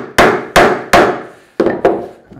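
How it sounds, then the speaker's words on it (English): A wooden mallet strikes a chisel held upright between the marked lines of a mortise in a workbench timber, five sharp close thwacks, three evenly spaced and then two more after a short pause, each ringing briefly before fading. "Make sure we have our chisel lined up between our two lines of our mortise. And we're going to just take a perpendicular hit right there."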